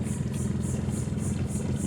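A Mercury 400 horsepower V10 outboard motor on a Grand Mariner 250 boat idles steadily nearby in a bayou, a low rumbling drone with a faint rhythmic pulsing and no voices.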